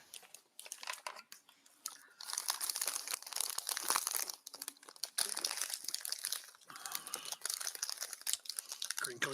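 Close, continuous crinkling of a snack bag mixed with crunchy chewing of Cheez-Its, rising and falling in bursts for several seconds with only faint voices in the background.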